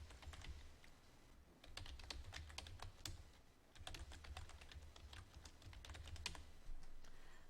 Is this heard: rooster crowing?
no